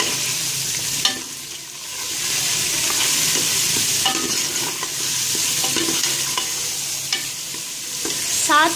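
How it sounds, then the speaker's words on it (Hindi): Desi chicken pieces with stock cubes being fried and stirred in a pan, producing a loud continuous sizzle with repeated scraping stir strokes and occasional utensil clinks. "अब मैं इसमें ऐड कर रही हूँ 9 चिकन क्यूब और इसको भी इसमें अच्छी तरह भून लूँगी"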